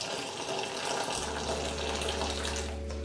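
Hot water poured from a cup into a bowl of flour and salt while mixing paneer momo dough; a steady, close pouring stream starts about a second in and runs on alone to the end.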